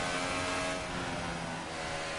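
A Formula 1 car engine in the F1 2018 racing game gives a continuous, dense high-revving drone, loud and steady throughout with no talk.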